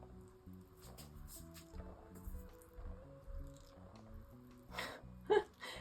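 Paint falling in drips from a swinging pendulum onto a canvas with a gradient background, soft wet pats and squishes scattered irregularly beneath quiet background music, faint and close.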